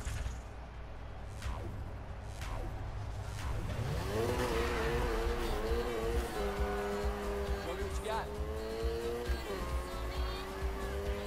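Need for Speed Heat racing game car drifting: engine drone rises as the gas is slammed, then long wavering tire squeals stretch out over the rest, under a voice talking.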